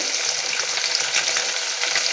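Pieces of rohu fish fry in hot oil with a loud, steady, close-up sizzle and crackle that holds evenly throughout.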